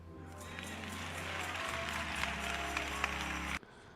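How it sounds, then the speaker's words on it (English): A church congregation claps and cheers for a small donation, a dense wash of applause that builds for several seconds and then cuts off abruptly. "The congregation is clapping. They're cheering for her."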